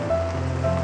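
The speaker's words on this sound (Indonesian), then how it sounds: "Hujan deras yang tiba-tiba turun membuatku mendongakkan kepala ke atas." Heavy rain pours steadily outside a café, a dense, continuous wash of falling water with no gaps, close and fairly loud, with a faint tonal hum running beneath it.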